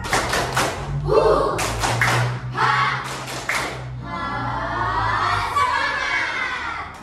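Schoolchildren in a fourth-grade classroom perform a rhythmic spirit clap, bursts of patterned group clapping with shouted chant syllables, then a teacher's voice speaks over lingering chatter.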